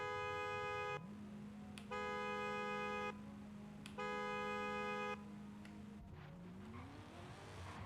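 A Mazda RX-7 drift car at Lime Rock idles on the line, then its rotary engine revs in long, steady holds that ring sharp and buzzy, broken by short gaps and blips before climbing again.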